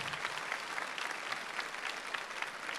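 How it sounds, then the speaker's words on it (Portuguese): An audience at a Catholic church talk event applauds its drama team with steady, dense clapping that holds even from start to finish at moderate volume, with no voices. "Vamos aplaudir a nossa equipe de dramaturgia aqui da Rede Lindo Século demais."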